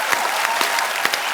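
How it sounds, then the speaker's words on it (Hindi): Studio audience of a Hindi television comedy talk show bursting into loud, sustained applause, a thick crowd of clapping hands with a few sharper individual claps standing out. "जोरदार तालियां।"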